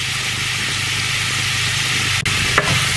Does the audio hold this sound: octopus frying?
yes